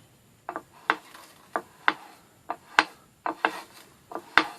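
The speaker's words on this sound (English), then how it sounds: "I'm using my fret leveler with a little bit of sandpaper on it." Fret leveler wrapped with sandpaper rubbing across a guitar fingerboard, producing a series of short, scratchy strokes in an irregular rhythm, close and fairly distinct with quiet gaps between passes.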